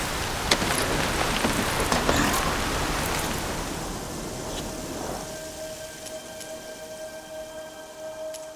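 Rain falls in the game Horizon Forbidden West as a steady broadband hiss, strongest early on and easing into a quieter wash with a few faint tonal hums in the background.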